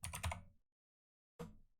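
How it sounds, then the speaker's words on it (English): Two short bursts of computer keyboard typing, the first about half a second of rapid clicks and the second briefer, close and quiet with silence between. "Sorry if you hear me typing."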